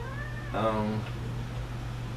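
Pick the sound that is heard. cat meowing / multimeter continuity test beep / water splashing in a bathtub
cat meowing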